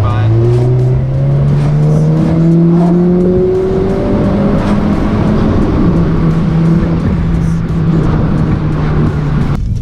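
A Volkswagen GTI engine pulls hard through third gear, its loud, steady rising drone climbing in pitch for most of the run before cutting off near the end; close and continuous, with no talk.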